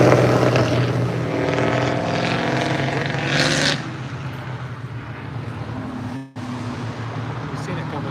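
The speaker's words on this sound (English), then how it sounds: "Look at all the planes up and down Woodward." Propeller planes towing banners drone overhead during a classic car cruise on Woodward Avenue, a steady engine hum that fades partway through, with people talking over it.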